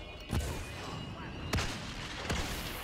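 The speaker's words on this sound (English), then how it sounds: "Shooting slugs at me" Gunfire from slug weapons in a Star Wars Battlefront match, three sharp distant reports spread across a few seconds over a steady noisy background.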